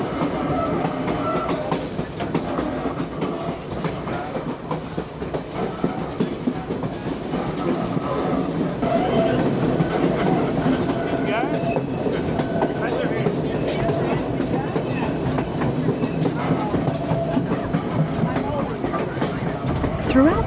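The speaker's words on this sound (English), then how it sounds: "The train can sway quite a bit along the mountain tracks" White Pass Scenic Railway train riding along mountain tracks, with a steady loud rumble and rhythmic clickety-clack of wheels throughout a passenger coach, under narration.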